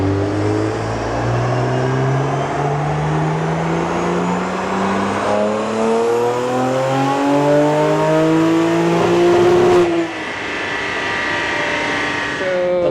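A BMW M4 engine revs hard and climbs steadily through the rpm with a race-car roar, then cuts off sharply near the end, signalling a misfire, before settling again; loud and close, with no talking.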